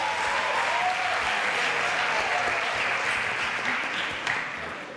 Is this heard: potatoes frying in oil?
no